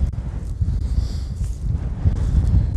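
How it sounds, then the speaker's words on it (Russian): Strong wind buffets the microphone in a rapeseed field in steady low rumbling gusts, loud and continuous throughout, with no voices. "Ветер страшенный"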